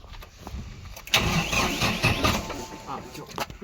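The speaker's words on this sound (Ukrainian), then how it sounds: "Давай такої заведу, а ти там біля мотора, щоб послухати, що каже, що як робить мотор." An ENEY 110 tractor engine cranks and fires up close, catching with a sharp loud burst and settling into a rough, rumbling mid-pitched run.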